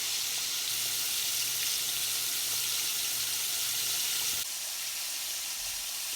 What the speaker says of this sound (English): So while these other ones are cooking in the frying pan here